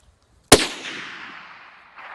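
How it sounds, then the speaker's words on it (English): A single sharp, loud gunshot fired at a brown bear during an outdoor hunt cracks out and rolls away in a long, fading echo across open terrain. "Shoot him again. He's crawling up out of there. Shoot him again."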